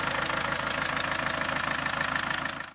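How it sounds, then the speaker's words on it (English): A Land Rover 300Tdi diesel engine idling with a rapid, steady chuffing pulse from a blown head gasket, close and continuous, ending abruptly. "you can hear this engine here chuffing"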